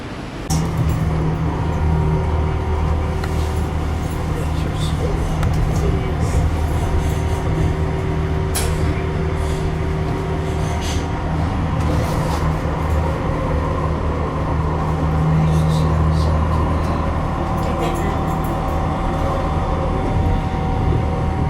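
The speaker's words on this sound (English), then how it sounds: "Train departing. Please hold on." A new TriMet MAX Type 6 light rail train rumbles and rolls steadily from inside the car, with low motor hum, rattling, and occasional clicks and faint squeals over twenty seconds.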